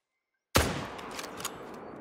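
A single loud rifle shot rings out from a hunting video game on the Sundarpatan map, a sharp, close crack after silence that trails into a long, fading echo.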